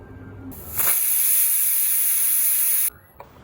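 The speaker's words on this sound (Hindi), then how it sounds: "अब इसमें जो कुकर की बची हुई हवा है वो भी निकाल देंगे हम" A pressure cooker's loud, continuous hiss of steam bursts out close by for about two seconds as leftover pressure is released, then cuts off sharply into quiet.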